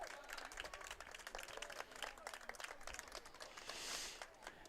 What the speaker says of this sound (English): you can hear them clapping now